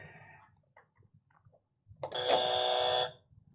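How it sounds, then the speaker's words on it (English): A single sustained electronic game show buzzer rings out loudly for about a second, preceded by a few faint clicks and taps. "let's test out the buzzer."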